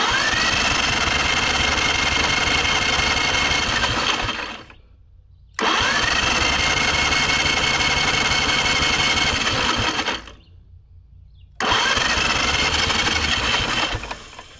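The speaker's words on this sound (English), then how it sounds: "sometimes if you crank them over for a little while, they come back to life" Old 1950s Caterpillar engine is cranked over in three long, loud, steady churning bursts, each about five seconds, separated by brief pauses. It does not start, and no one speaks.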